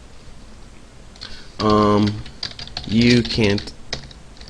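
Typing on a computer keyboard while writing Java code, quick soft key clicks scattered through the clip alongside two short bursts of speech.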